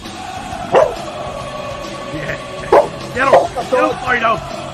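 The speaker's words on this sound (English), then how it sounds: "Dogs barking at my dancing." Dogs bark in a few sharp bursts at a home, with short yips between them, while someone talks over and around them.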